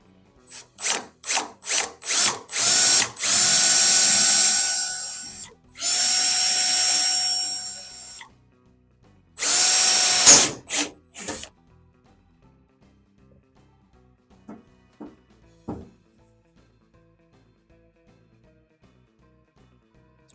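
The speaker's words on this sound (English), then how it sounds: "I'm gonna try to drill out those little welds." A power drill bores out spot welds on the inner wheel panel of a Volkswagen Beetle during restoration, in several short bursts followed by longer sustained whining runs, then a few faint taps and clicks near the end.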